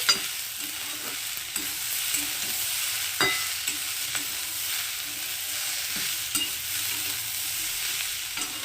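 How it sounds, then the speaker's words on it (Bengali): A spoon scrapes and stirs chili and cumin powder into a Malabar spinach dish in a pan, with steady soft scraping strokes over a faint sizzle, close and alone with no talk. "তো সবগুলোকে একটু ভালো করে মিশিয়ে নেব"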